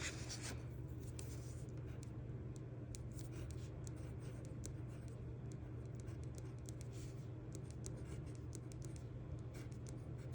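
A pen scratching across a sheet of paper in steady, continuous strokes, faint and close, with soft irregular scribbles over a low constant hum.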